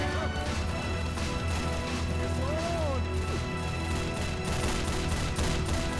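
Heavy gun firing in a Helm's Deep battle video game, a busy stream of shots and crashes layered under constant game noise, with a voice talking over it.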